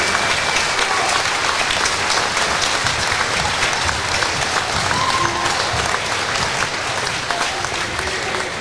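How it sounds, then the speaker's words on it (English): A gym crowd at a high school basketball senior night between Washington and Mount Pleasant gives a sustained, dense round of applause for senior players and their parents, steady and loud throughout with no break. "Let's give them a nice round of applause."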